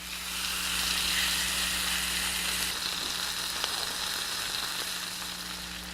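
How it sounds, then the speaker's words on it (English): Steaks searing in a hot skillet, a loud, steady close sizzle with a faint low hum underneath, the hiss easing slightly partway through and no one speaking. "We're going to put these steaks on for 2 minutes in this skillet."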